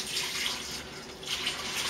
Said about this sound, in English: what we're going to do now is just add a little bit of the water